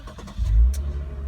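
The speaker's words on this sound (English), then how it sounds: "let's start the car up." A 2018 Lexus RC 300 engine starts: a brief starter crank and low, rumbling catch swell up in under a second, then settle into a steady close idle, with no talk.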